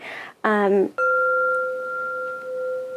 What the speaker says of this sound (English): So this is a flow chime.